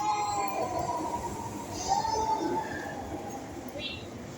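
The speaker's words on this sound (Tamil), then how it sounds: "Next train to airport via AGDMS Gindi Metro is arriving on platform 5." Metro train arriving at a platform on an airport-bound line, a faint rolling rumble with squealing wheel and brake tones rising and fading, under distant station voices.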